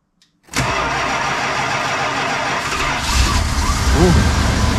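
A car engine cold-starts after sitting for two months on a weak battery: a sudden loud crank-and-catch, then a steady rumbling idle that swells a little louder toward the end, with no talk over it.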